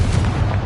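Rumbling blast from the Confringo fire spell in Hogwarts Legacy, a dense low boom that stays loud and continuous for its brief span, with no voices.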